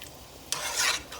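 Diced tomatoes from a can simmering in a pan for a lasagna sauce, a brief close stirring scrape and bubbling sizzle that swells for a moment, with no voices.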